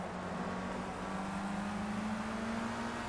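Steady engine drone from a car in the Project Cars racing game, a constant mid-pitched tone held at even loudness throughout with no talk over it.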